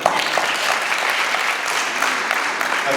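Guests at a church wedding ceremony applaud: a steady, even wash of many hands clapping together for the full stretch, moderately loud, with no pause.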